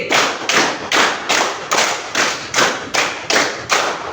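Hand clapping in a counted rhythm, a run of about ten loud, close claps grouped in regular pairs, each a crisp slap with brief decay, heard alone without voices.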